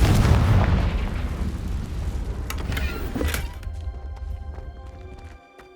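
A Confringo spell blast in the Hogwarts Legacy video game lands as a loud booming explosion that rumbles and slowly fades away, with small crackling debris after the initial hit.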